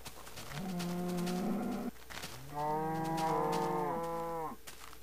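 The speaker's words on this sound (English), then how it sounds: "Oh, shut up, cows." Cows moo in the Minecraft video game, two long drawn-out moos, the second lower and more sustained, clear and fairly quiet with no talking.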